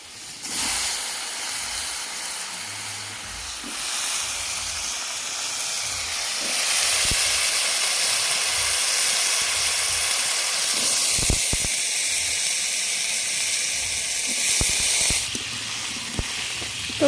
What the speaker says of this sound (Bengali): তেলের মধ্যে হলুদ দিয়ে দিলাম।